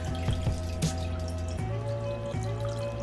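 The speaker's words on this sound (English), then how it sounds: "So I'm just gonna get some water for now." Water runs from a tap into a soup pot, a steady pour with drips and ringing metal tones as the pot fills, close and fairly loud, with no talking.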